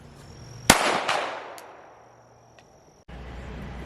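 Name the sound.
pistol shots at a shooting range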